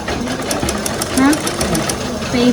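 A sewing machine stitches a pillow cover in quick, rapid bursts of mechanical rattling, close and steady, while a person talks over it.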